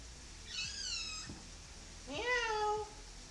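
A house cat meows twice, clear and close, two drawn-out rising and falling calls separated by a short pause in a quiet indoor room.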